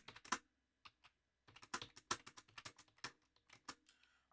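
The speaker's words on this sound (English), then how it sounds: "I'm going to go ahead and type in my x's, 0 all the way up to 9." Numbers are typed on a computer keyboard in short, irregular bursts of light clicking keystrokes with brief pauses between them, close and quiet, with no talking.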